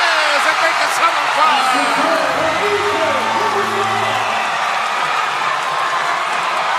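Agriculture basketball fans in an arena during the UNTV Cup Season 11 best-of-three finals against Ombudsman keep up a loud, steady roar of cheers and whoops under a commentator's continuous play-by-play.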